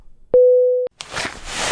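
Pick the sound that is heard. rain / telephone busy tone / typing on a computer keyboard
telephone busy tone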